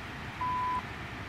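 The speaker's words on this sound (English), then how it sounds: "I don't know what that beep is." Cockpit of an Airbus A320 in the X-Plane 11 flight simulator: a single steady electronic beep lasting under half a second sounds over a constant low engine hum, with no talking.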